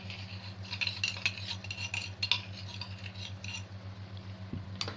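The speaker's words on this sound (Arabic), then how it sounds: "هقلبه برده كده مع بعض عشان ايه؟ السكر يدوب مع الرز" A spoon scrapes and stirs rice and sugar in a pot while making rice pudding, a quiet repeated patter of grains and metal against the pan.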